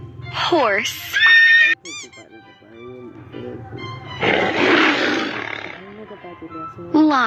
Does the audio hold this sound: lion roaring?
yes